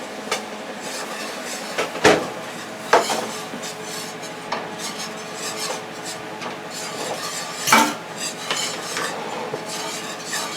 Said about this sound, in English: I'm going to just whisk that